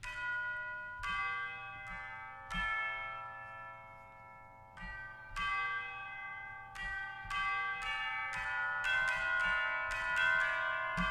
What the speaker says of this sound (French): c'est très bon son de cloche